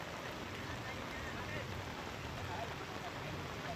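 Heavy downpour over a village in Kalyanpur taluka near Dwarka, flooding farm fields; a steady, even wash of rain noise, fairly faint and unbroken.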